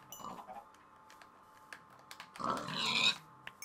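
Pig oinking in Minecraft on PS3, a short burst of grunting squeals near the end, loud and close over a quiet background of game sounds.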